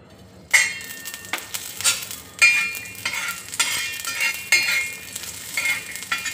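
Garlic and ginger frying in a little oil in a pan, stirred in repeated scraping strokes over a steady close sizzle, with a few sharper utensil knocks; no voices.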